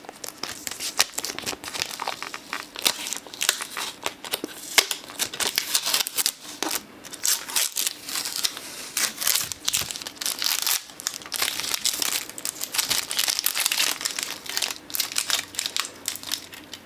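Plastic packaging film being peeled off a GPU graphics card, a close crinkling and crackling with irregular tearing bursts that carries on for several seconds, no talk.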